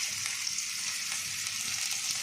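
Ginger and green chilies frying in hot oil, a steady close-up sizzle with faint crackles throughout, no voices.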